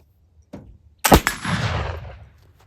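A black powder gunshot with raw cotton wadding: a faint pop near half a second, then a loud sharp blast at about one second, followed by a long rumbling decay that fades over the remaining time, with no talk.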